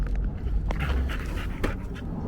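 A puppy on a walk pants rapidly nearby, short rhythmic breaths over a low rumbling background, with a faint whimper.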